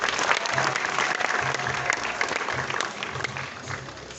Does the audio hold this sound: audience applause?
yes